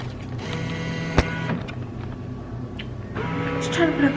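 A vending machine's bill acceptor works on a five-dollar bill, giving a mechanical whirring and creaking with a sharp click, then a second burst of motorized grinding, close by under faint background noise.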